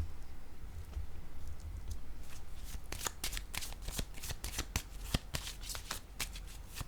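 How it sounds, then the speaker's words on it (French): A tarot card is handled and laid down on a surface, a fast run of crisp, close card flicks and slaps following a quiet start. "Je vais déposer une autre carte ici."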